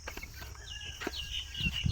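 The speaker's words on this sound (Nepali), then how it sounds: "यो चाहिँ हाम्रो गिरिराज भन्छ है यो कुखुरालाई चाहिँ" Giriraj breed chickens in a newly built home coop give a few short clucks and calls over about two seconds, close by against a quiet background.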